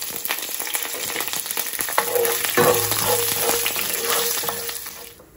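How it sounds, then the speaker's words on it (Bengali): Whole cinnamon, cardamom, black peppercorns, cloves and bay leaves sizzle in hot oil for a Bengali-style quail roast, a loud steady crackle that swells midway, then cuts off abruptly at the end. "তেল গরম হয়ে গেছে এনে দিলাইলাম ডালচিনি এলাচি গোলমরিচ লং বিসমিল্লাহ আর কয়েকখান তেজপাতা"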